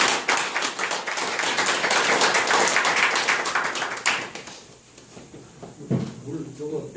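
A crowd claps in dense, sustained applause for about four seconds, then it thins out into a few scattered claps and quieter room noise.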